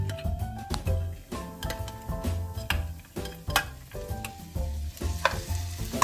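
Bulgur, lentils and onions being stirred in a pan, with a steady sizzle under repeated scraping strokes of the spoon and a few light clinks against the pan; no one speaks.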